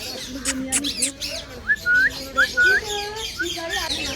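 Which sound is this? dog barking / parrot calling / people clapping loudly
parrot calling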